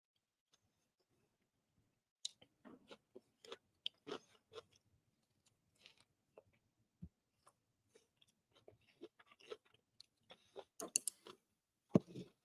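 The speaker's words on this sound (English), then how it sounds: "Water chestnuts are crunchy, surprisingly." Canned water chestnuts being chewed close up, a scattered series of sharp crunchy bites and clicks over about twelve seconds, getting busier and louder toward the end, with no talking.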